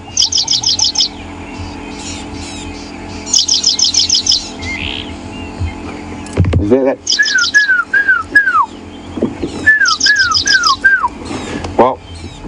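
An unidentified bird calls in the bush on a morning game drive at Djuma Game Reserve, repeating bursts of rapid high trills and short descending whistled notes, clear and fairly close, with brief quiet speech in between.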